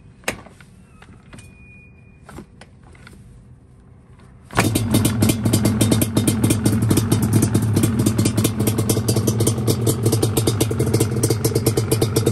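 A 1992 Yamaha Banshee with DMC pipes, running rich: a quiet stretch of faint clatter, then the engine fires up and idles loud and close, a dense rapid two-stroke putter with a steady rhythm.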